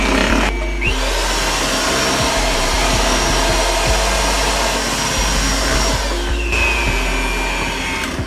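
Electric hand mixer beating apple cake batter with pudding and sour cream, a loud continuous whirring drone with brief scraping knocks against the bowl and no talk.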